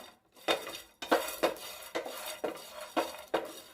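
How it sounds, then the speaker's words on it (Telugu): Cumin and coriander seeds being dry-roasted in a pan for a stuffed brinjal curry, with a spatula scraping and clanking against the metal in a steady rhythm of about two strokes per second, close and clear. "అలాగే ధనియాలు, వీటన్నిటిని కూడా వేసి మనం దోరగా వేయించేసుకోవాలండి."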